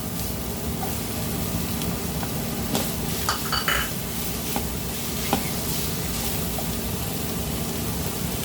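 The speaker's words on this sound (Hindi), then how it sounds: "अभी इसमें पूरी भाजी डालेंगे, गाजर, शिमला मिर्च, गोभी। थोड़ा थोड़ा उसको भून के लेंगे।" Carrots, capsicum and cabbage sautéing in a pan, a steady low sizzle with a few light clinks and scrapes of a spatula against the pan, close and without talk.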